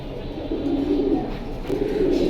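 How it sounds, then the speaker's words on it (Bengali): Black-necked pigeons coo softly in two drawn-out, throaty calls, moderately close against a faint background hum. "আমনুল ভাই এটা কি কবুতর দিলেন ভাই কালো গলার কালো গলা পাখি দিলেন"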